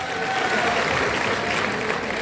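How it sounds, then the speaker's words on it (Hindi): Continuous crowd applause at an all-India poetry gathering in Saifai, thick and steady from start to finish. "उससे ज्यादा तालियां अब चाहिए, मिलेंगी"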